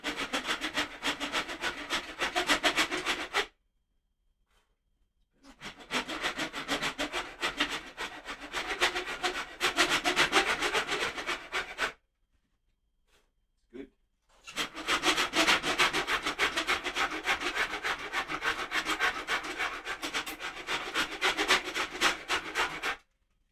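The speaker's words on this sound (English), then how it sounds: "We've got this rasp here. I'll flatten it out in no time." A wood rasp scrapes rhythmically across a wooden guitar neck to flatten it, long bursts of coarse rubbing strokes separated by short pauses, close and fairly loud with no talking.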